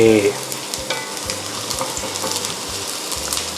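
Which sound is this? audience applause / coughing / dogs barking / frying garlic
frying garlic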